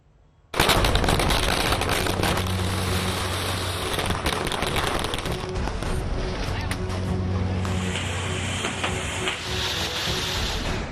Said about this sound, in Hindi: कहने को तो दिल्ली में दिवाली पर पटाखों पर पूरी तरह प्रतिबंध था, लेकिन पटाखे बिके भी और फूटे भी।